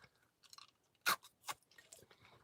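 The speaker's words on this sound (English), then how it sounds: "I chomp on ice anyway, so I might as well get ice that crushes easy and can't hurt my teeth" Someone chews crunchy nugget ice from a countertop ice machine, up close and fairly quiet, with a few sharp crunches between softer chewing sounds.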